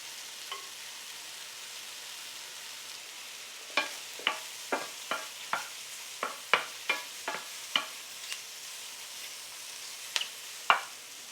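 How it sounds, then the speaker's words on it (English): Mushrooms and shallots browning in a sauté pan for a braised turkey dish: a faint, soft sizzle under a run of sharp, separate clicks and taps of a utensil against the pan. "When the mushrooms are browned, add the shallots and brown them"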